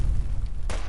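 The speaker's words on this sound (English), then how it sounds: "Well, that's a grenade, not a Molotov." A grenade goes off in Fallout 4: a single sharp burst near the end, rising out of a steady low game rumble and lasting under a second.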